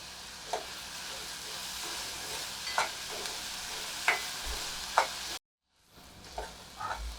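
Sliced onions fry in a pan with salt for a quick potato and onion curry, sizzling softly and steadily with a few sharper stirring scrapes, then a brief silent gap.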